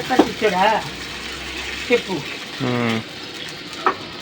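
Water is poured into hot oil while semolina is being cooked in a home kitchen, giving brief sizzling and stirring noises amid close conversation.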